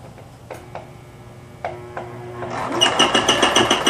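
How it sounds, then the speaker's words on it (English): A sewing machine hems Christmas napkins, starting after a few light clicks and taps, then running in a fast, even mechanical chatter that stays close and steady to the end. "Start at the top corner, let's say a quarter of an inch down, and then you start sewing."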